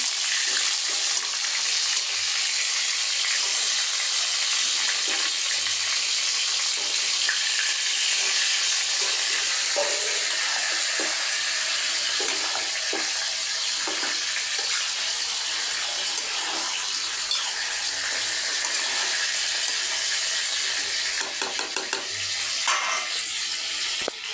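Food fries in a pan with a steady, loud sizzle. A broad, continuous hiss holds for the whole stretch, with faint crackles and soft kitchen clatter underneath.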